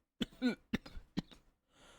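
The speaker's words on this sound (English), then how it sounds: "Had to cough a little bit" A few short, sharp coughs in quick succession, close and fairly loud, followed by a faint hiss of background noise.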